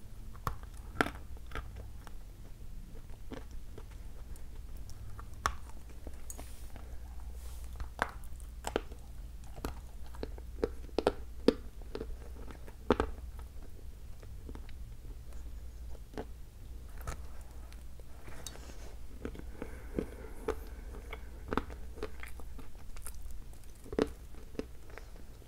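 A firm Bashkir variety, dense with yellow flecks, is bitten and chewed at close range, with repeated sharp crunchy bites and sticky chewing in an irregular rhythm over a quiet background hum.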